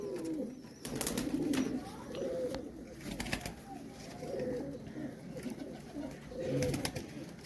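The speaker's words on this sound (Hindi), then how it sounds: "लाखा कबूतर है।" Lakha pigeons cooing in low, throaty repeated phrases, with scattered clicks and rustling around them.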